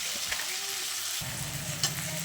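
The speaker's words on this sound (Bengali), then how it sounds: "লঙ্কার গুঁড়ো জিরের গুঁড়ো এবার আমি খুব ভালো করে কষিয়ে নেব" Onion, garlic and ginger paste with chilli powder and cumin frying hard in a pan for a Bengali parshe fish curry, a steady close sizzle with faint stirring scrapes, and a fuller frying hiss partway through.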